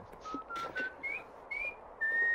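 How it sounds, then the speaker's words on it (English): Someone whistles into a microphone during an online game voice chat, producing a few short, close whistled notes that step upward and end in one longer held tone. "Don't whistle to your mic, please."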